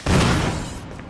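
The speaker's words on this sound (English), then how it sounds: "I'm having way too much fun with the shotgun." A single loud shotgun blast from Resident Evil HD Remastered booms at the start, then its roar decays over the following second.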